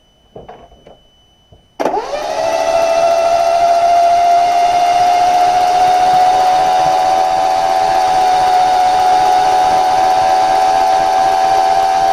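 A GM2 engine cranks briefly with decompression off, then catches and settles into a loud, steady running hum that continues close by.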